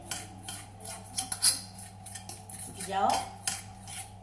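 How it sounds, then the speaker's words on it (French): Egg yolks, sugar and flour being mixed in a bowl, with a utensil clinking and scraping against the sides in an uneven rhythm, close by, and a brief spoken word. "Alors je mélange les œufs. Donc que les jaunes d'œufs, le sucre et la moitié du bol de farine."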